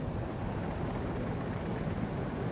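A video-game helicopter lifts off while carrying equipment, its steady broadband rotor and engine drone loud and continuous for the whole stretch, with no talk over it.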